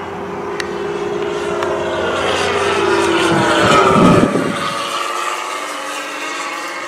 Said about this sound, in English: I'm going to land, Davey.